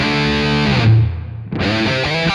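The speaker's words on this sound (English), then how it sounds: "So I brought in this reverb I told you about before." An electric guitar played through a distorted amp tone with reverb rings out in sustained chords, briefly cutting off and then returning with a lingering, washed-out tail, loud and alone.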